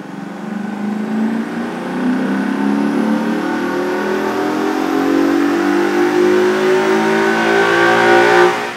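A 2015-2017 Ford Mustang GT with the Ford Performance Power Pack 2 revs on a Dynojet dyno, its V8 climbing steadily in pitch through a long, loud, close wide-open pull before cutting off at the end.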